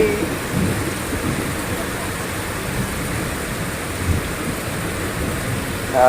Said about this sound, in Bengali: এত জোরে জোরে ঝড় বৃষ্টি হচ্ছে